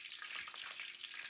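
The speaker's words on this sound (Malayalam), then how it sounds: "കരിവേപ്പില ഒന്ന് വറുത്ത് വിട്ടേക്കാം" Curry leaves sizzle and crackle in hot oil in a pan, a bright, steady frying hiss with small pops, close and fairly quiet, with no voices.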